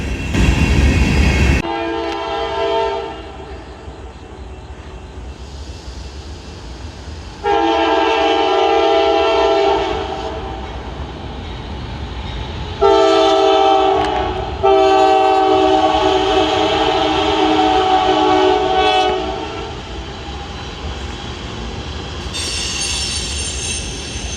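A train rumbles past nearby, heard from down below a bridge, sounding long blasts of its horn in several bursts over the steady roar and clatter of the rail cars.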